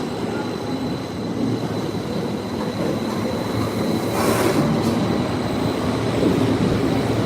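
Trains with brand-new rolling stock rumble out of a station in Switzerland with steady clattering wheels on rails and a brief squeal, growing slightly louder toward the end.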